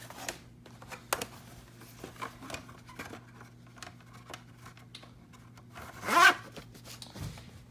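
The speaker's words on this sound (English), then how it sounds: "It's kind of hard to get a VHS tape back in the case with one hand and film with the other." A VHS tape is slid back into its plastic case, making light scrapes, clicks and rubbing, then one louder scuff and a soft thump near the end in a quiet room.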